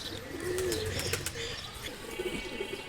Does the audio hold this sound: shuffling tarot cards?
no